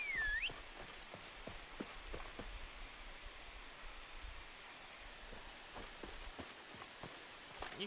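Roach the horse gallops in a video game, with faint, steady hoofbeats thudding in a regular rhythm against a quiet outdoor background.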